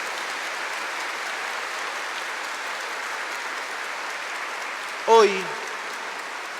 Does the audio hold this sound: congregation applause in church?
yes